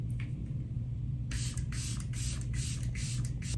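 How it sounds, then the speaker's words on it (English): Setting spray misted onto a made-up face: after a quiet start, a series of about five or six quick, close hissing spritzes follow one after another, with no voices. "I'm gonna melt all my powders with the Say setting spray."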